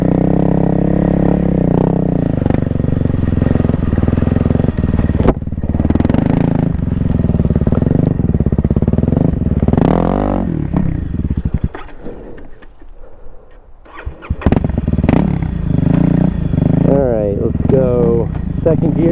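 A 2024 Kawasaki KLX300R dirt bike charges up a steep, nearly vertical wall climb, its engine loud and close, revving hard in rising and falling surges with a rough, choppy stretch partway through.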